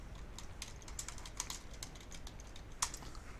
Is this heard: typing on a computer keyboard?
yes